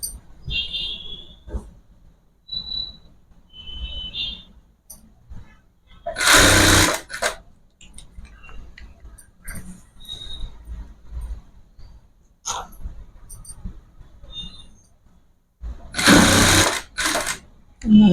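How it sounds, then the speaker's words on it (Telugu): A sewing machine stitches cloth around a curve for a baby boy's dhoti dress, running in two short, loud bursts separated by quieter gaps where a person talks and small handling noises occur. "ఇలా రౌండ్గా కుట్టుకోవాలి."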